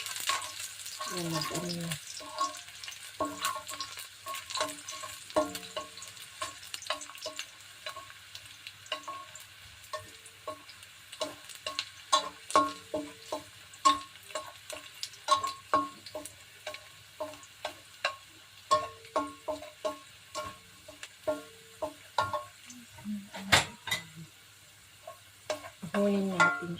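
Garlic fries and sizzles in a pan while being stirred for mushroom pasta, a steady crackling hiss punctuated by repeated scraping and tapping of a utensil, with a brief spoken comment early on.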